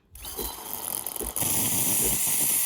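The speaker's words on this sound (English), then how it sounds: "To steam and froth the milk, we're gonna push steam while it's flashing." A compact 20-bar espresso machine's steam wand hisses loudly and steadily, starting softly and swelling to a strong, continuous jet of steam after about a second, with no talking.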